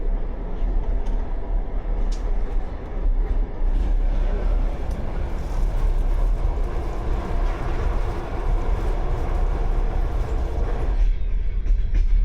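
Train rumbles and roars steadily and loudly throughout, dense low-frequency noise with rattling, close by.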